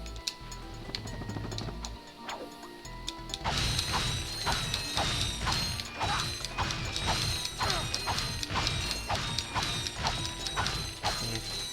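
Bolt collecting in the Ratchet and Clank video game, with a dense, steady stream of rapid metallic clinks and mechanical rattles over a constant game background, continuous and fairly loud with no speech.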